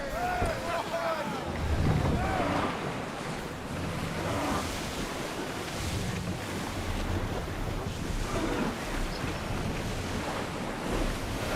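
Wooden sailing ship under way at sea with oars in Assassin's Creed Odyssey, a steady wash of waves and wind noise with occasional creaks and faint shipboard voices in the background.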